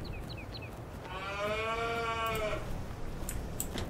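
A sheep in the video game Farming Simulator 22 gives a single drawn-out, wavering bleat of about a second and a half over a steady low background hum, with faint chirps just before.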